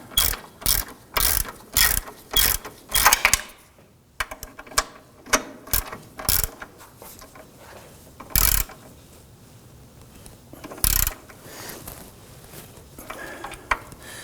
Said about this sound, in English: I'm going to put my box wrench on the nut, and we want to tighten this down.